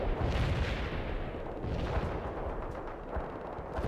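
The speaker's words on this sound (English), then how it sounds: "Anti-tank strike is inbound." Anti-tank strike explosions in the video game World in Conflict, a continuous loud barrage of heavy booms and rumbling blasts overlapping into a dense roar with no pause.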